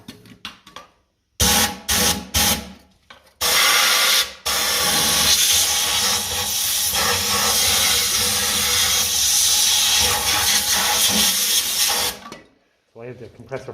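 Compressed air at about 100 psi blasts and hisses loudly through the hydraulics of a 1955 Ferguson TED 20 TVO tractor, with a few short bursts followed by a long sustained rush that cuts off sharply.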